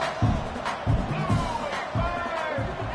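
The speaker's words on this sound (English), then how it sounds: "this crowd is buzzing after that last score" Stadium crowd in a football video game, a steady murmuring buzz of many voices with periodic swells, continuous and fairly loud throughout.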